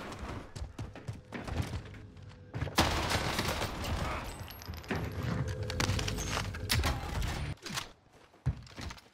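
Rapid bursts of Tech-9 submachine gun fire in a shooter video game, loud and dense with short pauses between volleys, mixed with clanks and clatter.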